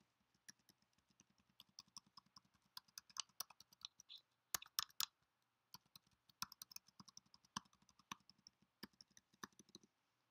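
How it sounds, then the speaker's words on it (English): Rapid, irregular keystrokes clatter on a computer keyboard, soft and close, with short pauses between bursts of typing and no voices. "I'm just using the keyboard."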